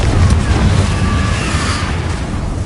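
A Confringo blasting spell detonates in Hogwarts Legacy with a loud, booming explosion that rumbles deeply and sustains through the moment, close and heavy, with no voices over it.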